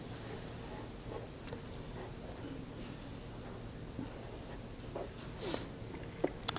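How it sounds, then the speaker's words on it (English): Marker or chalk scratches on a lecture-hall board as an organic chemistry molecule is drawn, faint intermittent strokes over room noise with a few sharper taps near the end. "let's go ahead and start off by drawing out a molecule"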